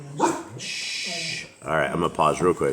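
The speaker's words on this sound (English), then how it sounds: "sorry for the dogs" Dogs bark close by indoors, a few sharp yips and barks in quick succession, followed by someone speaking over the quieting room.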